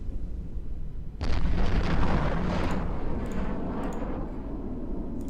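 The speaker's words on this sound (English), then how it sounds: "Okay, I hear some missile impacts." Missile impacts in EVE Online: a sudden heavy explosive blast about a second in, followed by a rolling, rumbling series of booms and crackling bursts that stay loud, with no talk.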